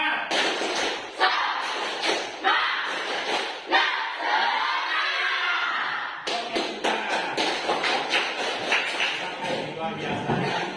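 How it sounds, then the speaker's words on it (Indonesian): A classroom of children claps out a rhythmic chant together, sharp group claps in patterned bursts mixed with shouted chanting voices, loud and close throughout. "Tepuk semangat."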